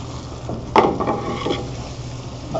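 Caramel sizzles in a hot pan as the chef tilts and moves it to deepen the color, a soft steady crackle with a brief louder hiss and scrape of the pan near the start, heard up close.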